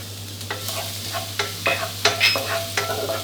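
Chopped garlic sizzles in hot oil while a utensil stirs and scrapes the pan in irregular strokes, with a steady hum underneath.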